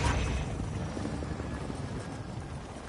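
A helicopter's rotor in Call of Duty: Warzone 2 chops steadily at moderate distance, a low rhythmic thumping that fades slightly across the few seconds.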